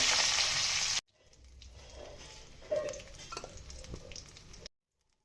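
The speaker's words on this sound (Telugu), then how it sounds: "ఇప్పుడు దీనిలోనే ఆవాలు, జీలకర్ర, ఎండుమిరపకాయలు, కరివేపాకు, ఇంగువ ఇవన్నీ వేసుకొని ఒక 5 మినిట్స్ వేపుకోవాలండి." Urad dal, mustard seeds, cumin, dried red chillies, curry leaves and asafoetida fry in hot oil for a tempering, a steady crackling sizzle with scattered pops after a loud opening burst, ending abruptly.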